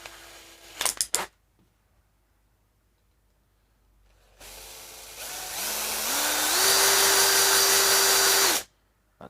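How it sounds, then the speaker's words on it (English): A power drill with a blunt 3.5 bit whirs up loudly drilling out a part and holds a rising, steady whine for several seconds after a few brief clicks and a quiet pause. "the bottom of this one still needs drilled out"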